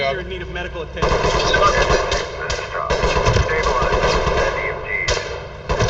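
Gunfire from the tactical shooter game Ready Or Not: sustained loud automatic fire with sharp repeated bursts throughout, close and dense, with a voice speaking over it.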